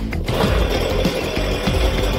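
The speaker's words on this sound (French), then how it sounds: "Une tronçonneuse." A chainsaw cuts steadily, a dense loud buzzing drone that holds without pause through the moment, close up and with no speech over it.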